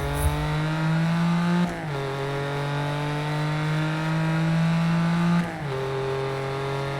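A car engine in Need for Speed 2015 holds a steady, sustained drone. It dips briefly twice as the gears shift, then climbs again, with no talking over it.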